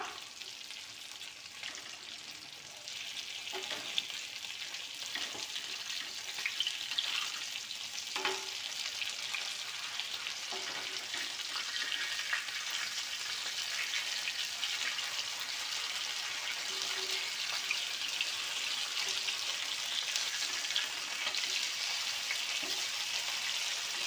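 Sankara fish frying in a pan, a continuous soft crackling sizzle with scattered pops and light stirring noises, steady and fairly quiet throughout.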